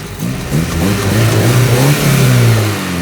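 An Opel Corsa A GSi hot hatchback engine with Bosch fuel injection revs up hard and holds a high, steady roar, close and loud, with the pitch climbing and then settling.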